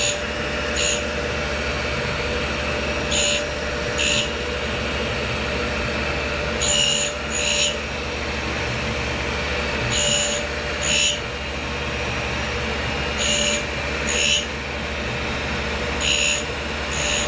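A tool and cutter grinder restoring the edge of a carbide scraper gives a steady, continuous grinding whir with a low motor hum beneath. Brief, brighter scraping bursts recur every couple of seconds, heard close with no voices.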